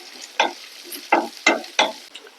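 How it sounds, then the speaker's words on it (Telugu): Sliced onions and curry leaves frying in a pan for a tangy Andhra tamarind-leaf and dried-fish curry, with four distinct stirring scrapes over a low, steady sizzle. No one speaks. "ఉల్లిపాయన్ని కొంచెం ఫ్రై చేసుకోవాలి"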